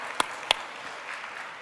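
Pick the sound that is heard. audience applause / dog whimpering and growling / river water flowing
audience applause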